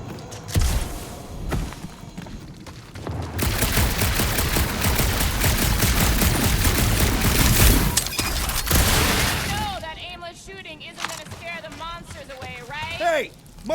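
Sustained blaster fire in Marvel's Guardians of the Galaxy on PC, a long rapid stream of shots with bangs and impacts, followed by characters talking and whooshing effects as the shooting stops.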